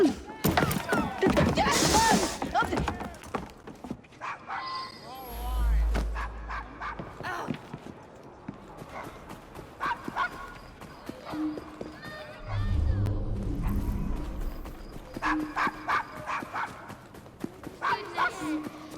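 A dog barks in repeated sharp yaps amid other Assassin's Creed Syndicate game noises, with low rumbling bursts and a voice talking intermittently.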